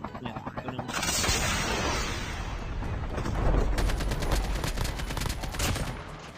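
Locus rifle gunfire in Call of Duty Mobile, heavy continuous shooting and battle noise filling the whole stretch, with a voice talking underneath.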